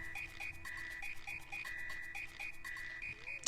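Quiet croaking from a frog in the video game Super Mario RPG, a steady run of short, evenly pulsed calls over a faint electronic hum, with no voices.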